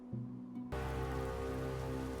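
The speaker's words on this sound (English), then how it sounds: "So the Mongols are going to attack me in the rain, eh? That's a heavy downpour." A heavy rain downpour in the Medieval Total War strategy game, a steady loud hiss of rain that switches on abruptly after a short stretch of quieter background game sound.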